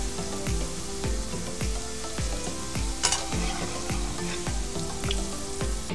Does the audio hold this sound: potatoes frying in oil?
yes